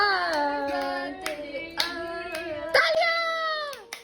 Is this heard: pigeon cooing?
no